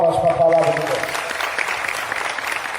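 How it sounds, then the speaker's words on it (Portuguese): A church congregation bursts into applause, a dense patter of many hands clapping at moderate loudness, following a brief voice at the start and continuing steadily to the end. "dá uma salva de palmas para a palavra de Deus"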